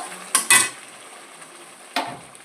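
Paneer biryani is stirred in a pot, giving a few short scraping and clinking strokes of a spoon against the metal, two close together near the start and another a moment later, with no voices.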